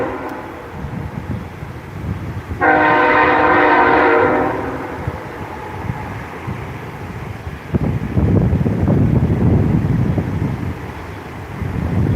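A train rolls past outdoors with rumbling wagons and wind buffeting the microphone, its horn sounding one sustained loud blast of about two seconds early on, followed by continued clattering of the passing cars.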